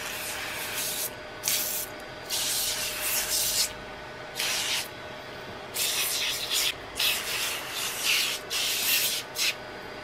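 A 1978 Fanon Fanfare 190 DF radio microphone lead gets snow foam cleaner, with a series of close, loud hissing sprays in irregular short bursts and pauses between them.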